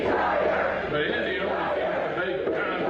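A large crowd chants loudly and steadily in a big arena during a live event, a dense wall of voices that fills the whole stretch without pause.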